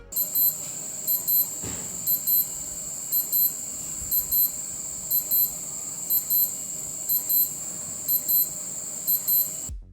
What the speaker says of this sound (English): Time to test the alarm.